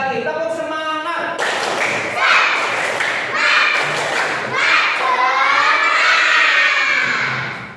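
Schoolchildren in a primary classroom perform the 'tepuk semangat' spirit clap, loud rhythmic clapping and thumping mixed with children's chanting and shouting voices, close and busy throughout.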